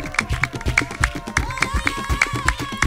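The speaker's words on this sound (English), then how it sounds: "The clapping pattern is really important." Rhythmic hand clapping in a Baka music pattern, crisp repeated claps locked to a steady groove over layered drums, with a sung or whistled melodic line weaving through, close and lively.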